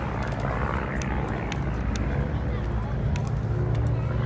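Yak-50 propeller aircraft flying a formation display at an airshow, a steady broadband engine drone holding at moderate distance throughout, with a faint voice over it.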